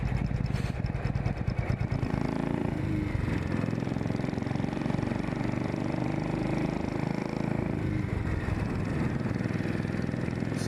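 A Royal Enfield motorcycle engine runs steadily and close for the whole stretch, a continuous mid-pitched drone with a low rumble beneath it and no speech.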